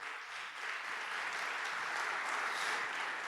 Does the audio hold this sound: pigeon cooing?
no